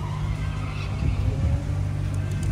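A supercharged drift car engine rumbles steadily at close range, its low growl swelling and easing slightly as the throttle is blipped, with a faint supercharger whine above.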